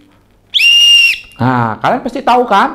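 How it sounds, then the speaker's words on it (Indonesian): A single sustained blast of a handheld whistle, held about half a second and loud, followed by a presenter talking to children. "Itu adalah bunyi peluit"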